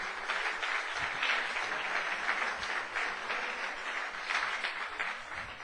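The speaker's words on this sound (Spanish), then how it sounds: "Dale un aplauso, ¿cómo no?" A church congregation at a consecration-week service applauds together, a dense, even roar of clapping that swells and eases slightly but carries on steadily throughout, with no voices above it.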